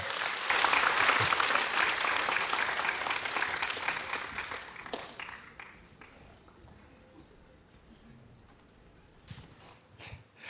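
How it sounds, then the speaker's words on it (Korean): A church congregation at an all-generation service claps loudly to welcome a high school forum speaker, the applause strong at first, then fading over several seconds into quieter room noise with a few scattered claps. "그 다음 우리 고등부 포럼자 나오셔서 포럼하실 때 큰 박수로 환영해 주시기 바랍니다."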